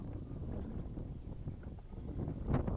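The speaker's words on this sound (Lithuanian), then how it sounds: "Vėjas tai didžiulis" Strong wind gusts across a small lake during fishing, a steady low roaring rumble buffeting the microphone throughout, swelling briefly near the end.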